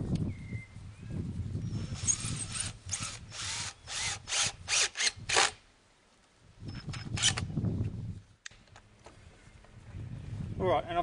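A power drill drives screws through the ends of straps into wood while an insect habitat is built, giving several short whirring bursts in a row, close and fairly loud, with a person talking around them.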